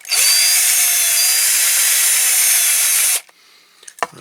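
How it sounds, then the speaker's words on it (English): A power drill with a freshly sharpened bit drilling steadily for about three seconds, loud, high and whining, then stopping into a few faint knocks and handling sounds. Restoration work on a Dinky Supertoys Albion Chieftain cement mixer model. "Oh, well, that one's drilling."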